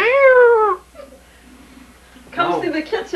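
A house cat gives a drawn-out, wavering meow up close, then a pause with faint background sounds before a second, busier burst of meowing or chattering near the end.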